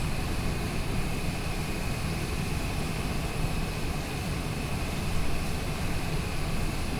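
Steady propeller-engine drone from a small airplane taxiing over gravel at Albuquerque airport in windy conditions at sunset, a continuous near hum with broad cabin rumble and no speech.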